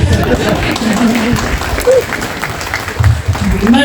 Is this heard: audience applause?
yes